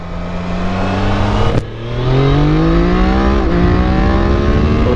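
Triumph Daytona 660 motorcycle engine accelerating hard in second gear with a quickshifter, loud rising harmonic whine, a sharp brief dip at an upshift, then pitch climbing again steadily, close and alone.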